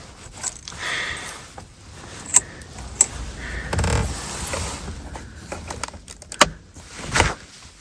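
A quick-release steering wheel heater connector on a 2021 Chevy Colorado is unclipped and pulled apart, producing close, small plastic clicks and rustling handling noises with no talking.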